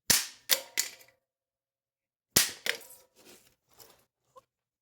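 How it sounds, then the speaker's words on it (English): Apple TV Siri remote, 5th generation, being destroyed: a few sharp cracking snaps in quick succession, a pause, then another hard crack followed by smaller crunches and a faint final tick. "Oh, the metal can deform pretty nicely there."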